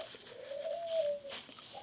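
A single soft, low dove coo swelling and fading, fairly quiet against a faint background.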